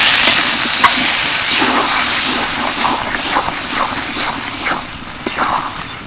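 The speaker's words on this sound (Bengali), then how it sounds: "এবার দিয়ে দিচ্ছি সিদ্ধ করে রাখা ছোলার ডাল ভালো করে মিশিয়ে নেবো" Boiled chana dal tipped into hot spices in a pan and stirred, giving a steady steamy sizzle and hiss with scattered scraping clicks, close and fairly loud throughout.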